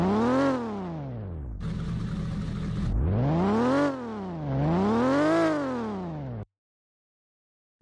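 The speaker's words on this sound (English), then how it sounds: "Next we have the actual sound of the car." Engine of a car in Roblox Southwest Florida revving up and down in repeated sweeping swells, loud and close, with a brief harsher burst near the start, then cutting out to silence.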